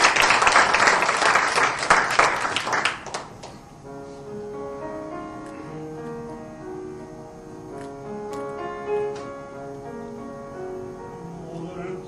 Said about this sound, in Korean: 큰 박수 맞이해 주시기 바랍니다.